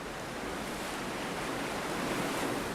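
Steady, broadband rushing of river rapids on the Yampa River as a raft is rowed through, a dense continuous roar of churning water with no voices.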